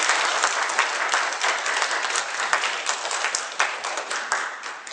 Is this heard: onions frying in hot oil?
no